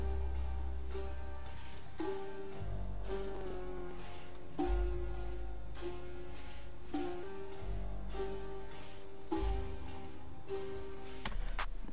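A trap beat built in FL Studio with a sample pitched down and time-stretched into a slow, dark intro loop. Muffled low booms and smeared tones repeat steadily at moderate volume, with no voices.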